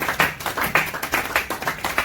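A church congregation clapping together in a brisk, regular rhythm, sharp claps repeating about twice per second, fairly close and with no voices over it.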